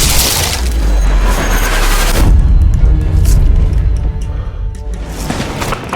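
Loud booms and cracking blasts from rifle fire and explosions in the World War II sniper video game Sniper Elite 3: a heavy roaring detonation, then a rumbling tail with scattered sharp cracks.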